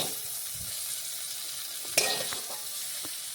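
Pointed gourd (potol) pieces frying in oil in a wok, a soft steady sizzle with a sharp scrape and clatter of a spatula near the middle, close and fairly quiet.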